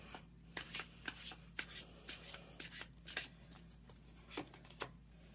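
Tarot cards shuffled and dealt by hand during a reading, a soft continuous riffle and slide of card stock with repeated light flicks, near and quiet, with no talking.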